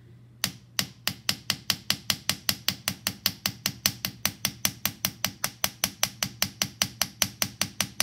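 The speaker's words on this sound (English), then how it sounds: "you would hammer on the back folded portion" A metalsmith hammers the folded back of a copper leaf with a steady run of sharp, ringing metallic blows, about four per second, close and loud with no speech.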